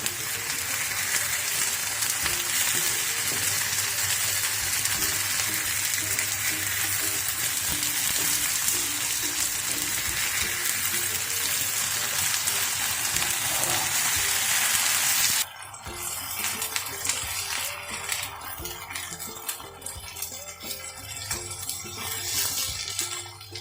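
Sardines coated in ground green pepper paste fry in a pan with a dense, steady hiss that drops abruptly to a quieter, softer sizzle partway through.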